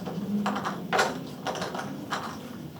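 Cardboard tiles from the Babylonia board game being turned face down and shuffled on a table, giving a run of soft clattering taps and slides in several bursts, close and fairly quiet.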